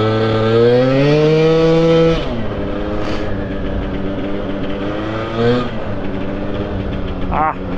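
A scooter engine putters loudly and unevenly nearby, dropping from a higher rev to a rough, steady idle.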